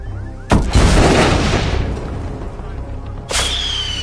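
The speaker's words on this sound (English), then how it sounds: "Command, there's been an explosion." An explosion in the video game Hitman 2: a sharp, loud blast followed by a long rumbling tail, then a second sudden bang near the end, with voice-like game audio underneath.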